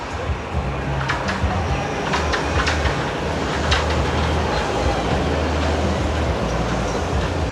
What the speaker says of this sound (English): There goes the monorail.